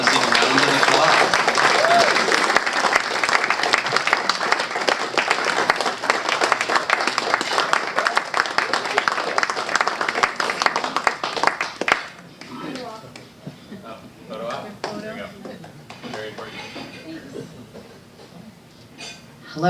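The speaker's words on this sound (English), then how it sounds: "Give her a rousing round of applause." Dense, loud rousing applause from a crowd at an award ceremony, sustained for about twelve seconds before cutting off to quieter room noise and faint voices.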